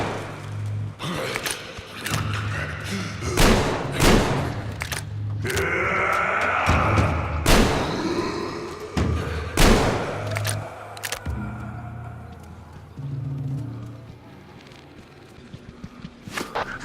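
A-Shot weapon in Metro Exodus firing at humanimals at close range, a series of loud sharp blasts scattered through the scene with thuds, gasps and footsteps between shots, then quieter at the end.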